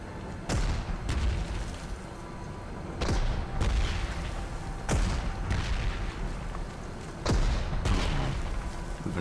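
Artillery fires in the wargame Panzer Corps 2, with half a dozen heavy booms arriving at irregular intervals of one to two seconds over a continuous rumbling background.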